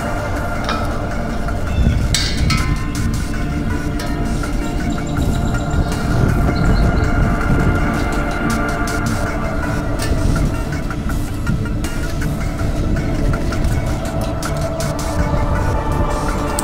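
A homemade kerosene atomizer burner run on propane fed through its air line roars steadily at close range, a dense, constant rushing rumble with no pauses for the whole stretch.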